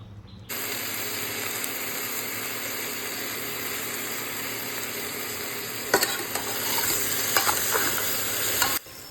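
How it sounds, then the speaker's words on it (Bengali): Potatoes and pointed gourd frying together in oil, a loud, steady, close sizzle that starts abruptly and carries on with a few brief clatters of stirring near the end, with no voices. "তেল দিয়েছি তেল দিয়ে আলু পটল সব একসঙ্গে দিয়ে দিয়েছি"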